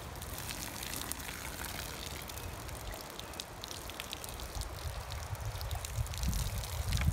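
Water is poured into a pitcher pump to prime a shallow well, trickling down in an uneven splashing stream, fairly quiet, with no voices.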